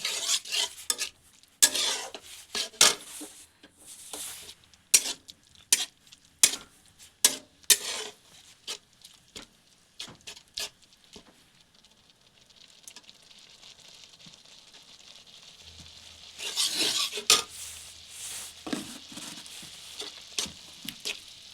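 Date palm jaggery sandesh mixture stirred in a pan, giving repeated close scraping and tapping strokes in an uneven rhythm, with a softer steady hiss partway through and a final burst of brisk stirring; no one speaks.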